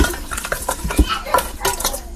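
A spoon scraping and clinking through a thick mixture with rock sugar in a pan, a quick uneven run of close metallic taps and scrapes, alone with no talk.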